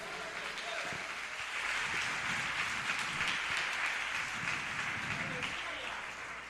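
Church congregation applauding the Lord after a sermon passage, a steady sustained wash of clapping from a large crowd filling the whole stretch, with faint voices underneath.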